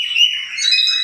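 Oriental magpie-robin, a round-headed kacer, chirping in bright, clear repeated calls that run without a break for about a second, close and fairly loud, with no talking.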